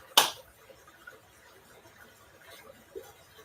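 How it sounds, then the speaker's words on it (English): A single sharp hand clap rings out near the start, loud and close, followed by near silence with only faint room noise. "I'm going to clap here and just tell me how many seconds delay"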